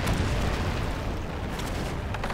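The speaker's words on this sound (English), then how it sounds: "Your ship is the target of enemy fire." Cannon fire strikes a ship in Anno 1404 as a steady, heavy rumble of booms and bursts, loud and continuous throughout with no voices over it.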